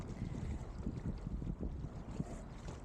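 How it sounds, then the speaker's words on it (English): Wind of about 10 to 12 knots, gusting to 18 to 20, buffets over open water in winter before a snowstorm, a steady low rumbling roar with rushing gusts and splashes. "usually like today the wind is about 10-12 knots, gusting to 18 to 20 knots"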